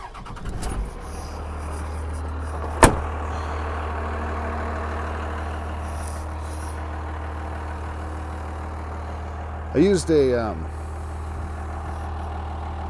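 A Cummins diesel swapped into a square-body GMC Suburban cranks and catches with a sharp knock, then settles into a steady, close, low idle that runs throughout, with someone talking briefly over it near the end.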